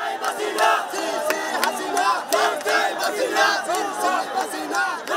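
A huge crowd at a mass rally in Dhaka, with students and citizens pouring into the streets, roars and chants in rhythmic waves of shouting that pulse steadily, loud and close, the voices merging into one surging mass.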